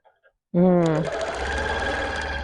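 A Bernina sewing machine runs continuously while quilting along a ruler guide, starting abruptly after a couple of faint clicks and holding a steady, close mechanical whir with a rapid stitching rattle.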